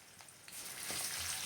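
Onions and curry leaves fry in hot oil in a pan, a quiet start that swells into a steady sizzling hiss with faint stirring.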